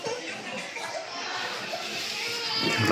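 Noisy children shout and play nearby in a busy outdoor setting, with overlapping voices and laughter forming a steady din that grows louder toward the end.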